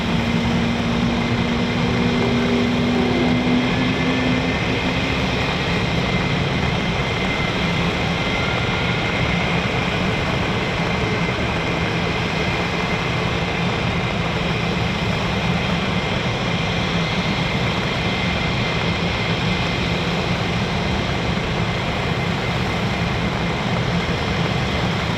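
F-15 and F-35 fighter jets of the 48th Fighter Wing at RAF Lakenheath produce a loud, unbroken roar that holds steady the whole time, with no voices.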